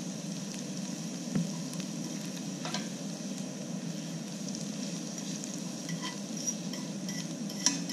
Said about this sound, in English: Take your fork and slowly and gently crush the peppercorns.